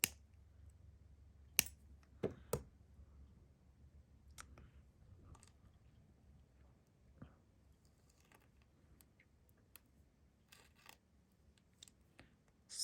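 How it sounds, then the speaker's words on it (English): Beads being strung on a spacer strand and a bit trimmed off with snips, heard as a few sharp quiet clicks around the two-second mark, with faint handling noises scattered through otherwise quiet room tone. "so I'm just going to snip off a bit"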